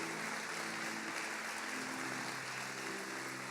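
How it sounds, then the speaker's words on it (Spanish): Church congregation clapping for the Lord during a Spanish-language sermon, a steady broadband wash of applause held for several seconds, fairly quiet and distant, with faint musical tones beneath. "dale un aplauso fuerte al Señor"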